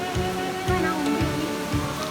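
Steady broadband rush of a waterfall in the Ananthagiri Hills near Vikarabad, a constant dense wash of falling water with soft low thumps, continuous and fairly close, no voices.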